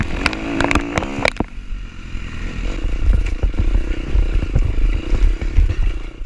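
A 4-stroke dirt bike picking its way over rocks in a rainy Tennessee Knockout 2018 hard enduro race, its engine blipping and revving irregularly amid clattering and scraping of tires and pegs on stone.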